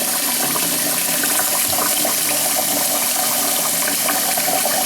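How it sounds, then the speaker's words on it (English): Steady cold tap water pours and splashes continuously over rice in a bowl or sink, loud and close, with no voices. "you're just going to run some cold water on top of that rice like that"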